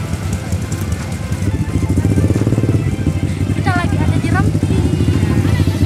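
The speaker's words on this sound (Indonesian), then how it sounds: "Satu persatu motor pun bergerak" Motorcycles pull away one after another in a convoy near the capital of Rampi in Central Sulawesi, steady close engine droning and revving throughout, with people talking over it.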